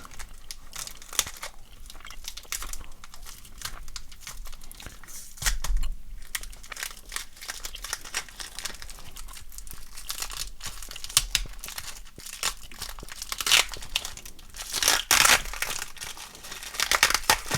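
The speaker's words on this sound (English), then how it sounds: "these wrappers are very well sealed and loud" Crinkly, tightly sealed plastic wrappers on old sports and non-sports trading card packs being torn open and crumpled close up, with sharp irregular rustling, crackling and ripping bursts throughout and louder tears near the end.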